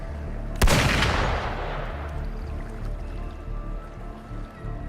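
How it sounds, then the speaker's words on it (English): A single sharp gunshot blast in the video game Wuthering Waves, loud and near, followed by a long rumbling tail that slowly decays under a steady ambient drone. "Gunfire!"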